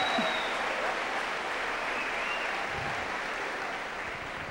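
A church congregation applauds steadily near the altar, a dense, even wash of clapping from many hands that holds at a constant level throughout with no talk over it.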